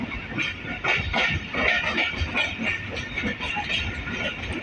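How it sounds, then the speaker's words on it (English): An EMD diesel locomotive pulling a train and accelerating, a steady rumbling run with rhythmic rail clatter and a hissing mid-range, heard close with no talk. "आखिरी EMD ही है, इसका कोई सानी नहीं है। ज़बरदस्त एक्सेलरेशन EMD की।"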